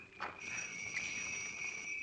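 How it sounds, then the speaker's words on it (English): Crickets chirp steadily in the countryside, a continuous high trilling drone with a faint sharper chirp near the start, sustained evenly at moderate distance with no talk. "Listen to those crickets."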